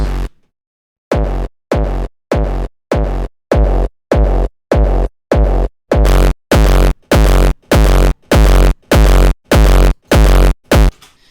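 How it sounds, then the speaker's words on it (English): A heavy distorted frenchcore kick drum, made in the Serum synth and run through bus distortion with reverb, hits repeatedly in a steady rhythm after a short silence, growing louder and more crunchy as it goes. "we're just gonna push this through a bus with some distortion to create our final kick sound"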